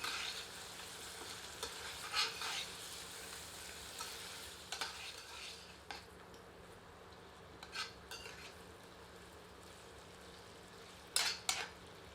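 Chicken gets stirred with Kashmiri chilli powder in a pan, a quiet steady sizzle with occasional scraping and clinking of a ladle against metal, close by and without speech.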